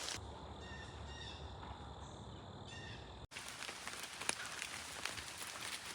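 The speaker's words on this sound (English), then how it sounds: "It just won't stop raining." Steady rain falls outdoors near a creek on a hiking trail, a faint, even hiss of drops with a few faint bird chirps early on before an abrupt cut to a denser wash of rain.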